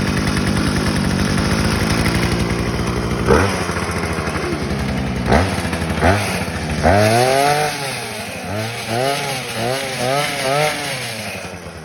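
A free mini dirt bike salvaged from the dump, running with the choke on: the small engine putters unevenly, then revs up in repeated rising and falling blips, loud and close, with no voices.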